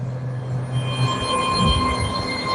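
A train rolls past close by on the rails at Wallyford, with a steady rumble and a high, thin squeal from the wheels, continuous and loud throughout, with no talk.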